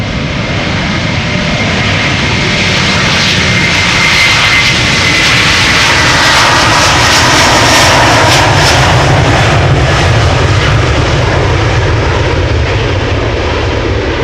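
Delta Air Lines Airbus A330-300, about twenty years old, departing Amsterdam Schiphol: loud, close jet engine roar with a thundering low rumble and crackling high hiss, continuous and intense throughout.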